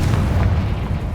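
The Confringo fire spell in Hogwarts Legacy gives a deep, rumbling explosion boom with a heavy low roar that holds for about a second, loud and close, with no voices.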